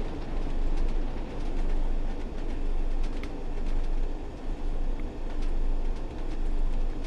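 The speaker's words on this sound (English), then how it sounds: "Oh, lovely, we get to see another train." A passing train in the video game Train Sim World 2, on the Northern Trans-Pennine route, rumbles loud and close as a steady heavy roar with faint clatter throughout, and no voices are heard.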